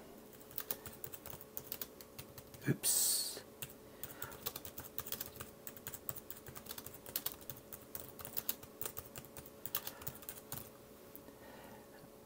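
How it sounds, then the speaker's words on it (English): Rapid typing on the paired keyboard of an Oscal Pad 10 tablet, a steady patter of light key clicks across the whole stretch with one brief louder bump early on. "you can type. You can type pretty fast on this"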